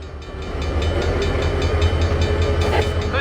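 A heavy freight train runs in the Trainz simulation game, with a steady rolling rumble and regular rhythmic clicking of wheels over rail joints, sounding close and loud with no voices.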